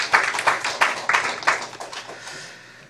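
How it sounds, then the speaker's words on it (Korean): Church congregation clapping together during a Sunday worship service, a rhythmic series of loud, even claps in a reverberant hall that fades away toward the end. "우리 함께 경의의 박수하겠습니다"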